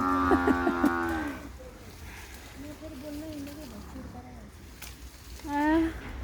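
A goat bleats loudly at the start and again near the end, with a person talking quietly in between.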